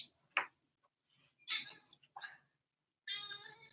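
A house cat meows several times in short separate cries, near and fairly loud, with brief quiet gaps between them and no talking over them.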